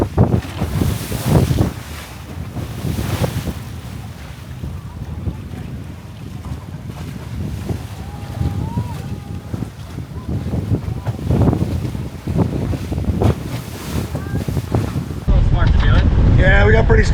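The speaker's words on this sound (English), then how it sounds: "we got pretty strong wind" Strong wind roars across the microphone on a sailboat at sea, with water rushing against the hull in loud, gusting waves that swell and ease, building to a harsher blast near the end.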